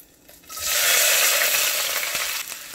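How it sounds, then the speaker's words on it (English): Red and green chilies, mint and capsicum sauté in a hot pan for a quick vegetable salad, breaking into a loud, steady sizzle after a quiet half-second start, with no talking. "Saute just for few minutes."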